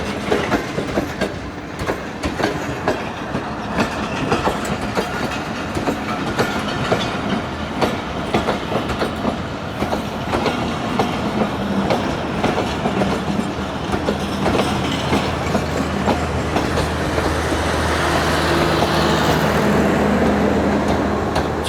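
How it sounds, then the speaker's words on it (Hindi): The Awam Express train rolls into Attock City Junction with a continuous rumble and rhythmic clickety-clack of wheels over rail joints, growing louder and closer toward the end. "अवाम एक्सप्रेस का अराइवल आपको दिखा दिया अटक सिटी जंक्शन पर।"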